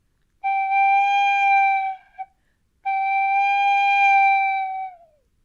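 Two sustained tin whistle notes, each starting quietly, swelling quickly with breath and dipping back down, separated by a short gap, the second ending with a slight downward bend.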